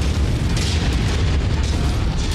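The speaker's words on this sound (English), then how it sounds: "Who puts a particle cannon on a tank?" A heavy particle cannon blast fired from a tank in the MechWarrior 5 video game, a loud, deep, sustained rumbling boom that fills the whole moment with no talk over it.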